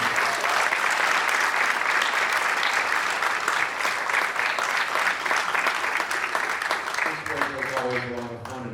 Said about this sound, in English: let's give them all a real big round of applause